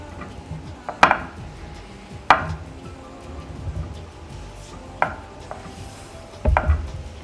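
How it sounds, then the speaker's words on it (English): Almond meal being broken up and crumbled into a baking dish, giving a few sharp knocks and scrapes against the dish spaced through quiet kitchen background. "you can just empty that out into a baking dish and then break it up a little bit"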